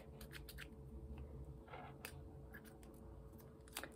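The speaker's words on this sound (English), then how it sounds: "Sorry, my scissors are rubbish." Scissors snipping red embroidery thread for a friendship bracelet, a few quick, faint clicks and snips over a soft background hiss.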